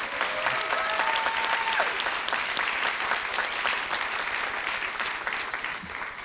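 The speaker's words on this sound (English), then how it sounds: "Round of applause." An awards ceremony audience breaks into sustained applause for an honoree, a thick, evenly spread patter of many hands with a brief whistle early on and no speech over it.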